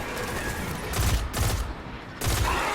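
Gunfire bursts from a burst-fire weapon in the Destiny video game, several short two-round bursts spaced across the clip over steady game ambience.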